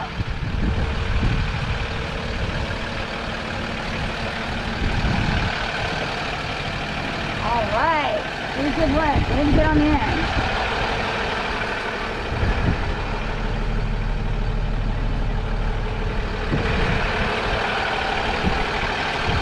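A street sweeper truck runs with a steady engine rumble while reversing beeps sound through the middle of the clip, and people talk nearby over the noise.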